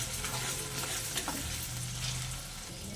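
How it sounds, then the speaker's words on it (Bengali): Ground cumin, coriander, Kashmiri chilli powder and salt sizzle steadily in oil as they are stirred and fried for egg curry, a soft continuous crackle with light scraping, close and fairly quiet. "ধনে গুঁড়ো, কাশ্মীরি লঙ্কার গুঁড়ো, পরিমাণ মতো লবণ। একসঙ্গে ভালো করে কষে নেব।"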